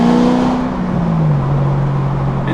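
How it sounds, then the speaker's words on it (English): A nearly straight-piped Corvette ZR1 drones loudly as the engine note steps down through downshifts, a deep steady exhaust tone sliding lower, heard from inside the car. "it's a damn near straight piped Corvette"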